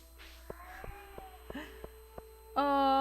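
A pet cat meowing for food indoors, short soft vocal sounds with faint clicks, then a louder, tonal meow at the end, close by.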